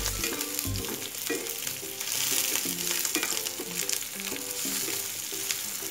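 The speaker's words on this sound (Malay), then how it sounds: "bagi dia layu sikit macam ni bawang putih dan saya tukar warna sikit jadi garing" Garlic frying in a pan until crisp, a steady dense sizzle with occasional stirring knocks throughout, fairly close and alone with no talk.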